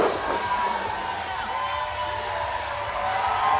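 A wrestling crowd at Hardywood Park in Richmond cheers and whoops at a distance, a steady wash of noise, while a commentator's voice carries over it.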